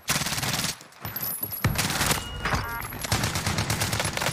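Rapid bursts of automatic gunfire in the battle royale game Warzone, loud and close, chattering in dense volleys with a brief lull near the start before resuming steadily.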